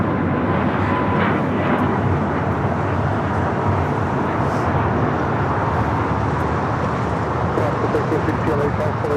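An Airbus A350-1000 airliner on the north side of Los Angeles International Airport produces a continuous broad engine rumble and roar that stays steady and fairly loud throughout.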